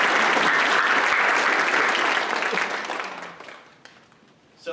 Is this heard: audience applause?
yes